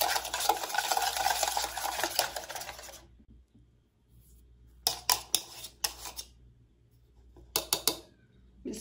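An egg and a heaping spoonful of sugar are beaten with a spoon in a bowl, first as a few seconds of rapid, dense scraping and clicking. After a pause come two short bursts of quick spoon taps, close and with no voices.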